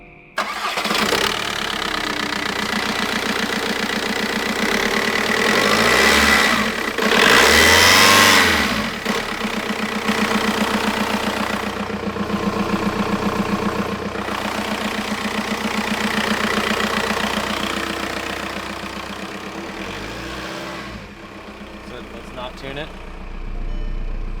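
A Volkswagen Jetta turbo engine runs up close at a loud, steady idle, with a couple of brief rises in revs, while people talk over it.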